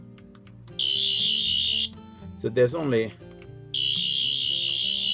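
A Doctor Who 14th Doctor toy sonic screwdriver with a green light emits a shrill, steady electronic whine in two long bursts, with a person talking briefly in the gap between them.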